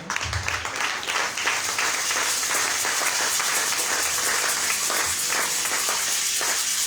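A congregation at a French-language church service bursts into loud, sustained applause, dense clapping from many hands rising quickly and holding steady throughout.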